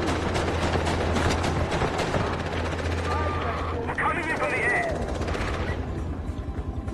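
A loud, continuous helicopter rotor chop from the video game Far Cry 4 in co-op multiplayer fills the scene alongside rattling gunfire and mechanical game effects, with someone talking over it.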